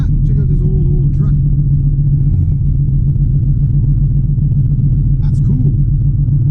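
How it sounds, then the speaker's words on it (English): An old truck's engine rumbles low and steady for the whole stretch, loud and close, with faint voices over it. "check out this old truck."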